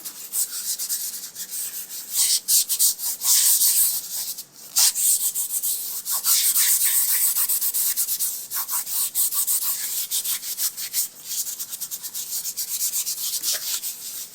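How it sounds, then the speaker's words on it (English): Clear-coated leather interior trim from a Piper Arrow aircraft is scrubbed hard, making a loud, close, continuous abrasive rubbing with quick back-and-forth strokes. "so I'm scrubbing it a little bit more than you typically need to, just to get through that"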